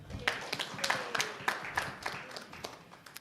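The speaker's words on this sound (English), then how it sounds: "can we just give them a clap to make them ready?" An audience at a youth learning and sharing convening claps in scattered, uneven hand claps. The sound is fairly faint and close, with distinct individual claps rather than a full roar.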